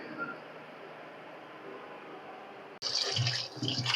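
Tap water runs into a sink while rui fish are washed, a steady faint stream that jumps louder and splashier near the end as the fish meet the flow.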